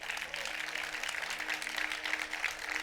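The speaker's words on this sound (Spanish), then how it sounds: "Denle un fuerte aplauso al Rey de Reyes." Church congregation clapping together in a sustained wash of applause filling the room, steady and dense throughout, with faint voices mixed underneath.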